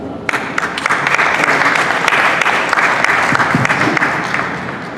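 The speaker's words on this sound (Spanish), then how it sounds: "Recibamos con un fuerte aplauso entonces al doctor Ardito." An audience greets a speaker at a presentation on Afro-Peruvian identity in Peruvian education with loud, sustained clapping that fills the whole stretch, dense and steady with no talking over it.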